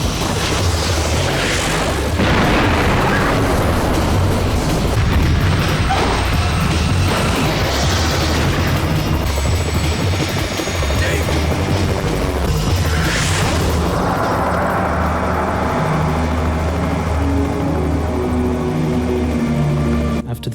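Dino Crisis 2 video game cutscene explosions: heavy booming blasts and crashing debris over a continuous loud rumbling din, with a big burst near the middle and sustained roar throughout.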